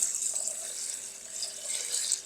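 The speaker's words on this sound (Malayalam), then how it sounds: "ഉലുവ നന്നായിട്ട് വെള്ളം ഒഴിച്ചൊന്ന് കഴുകണം" Water poured to rinse urad dal and fenugreek seeds for a green gram dosa batter, a steady hissing, trickling stream with slight swells, close by and alone without speech.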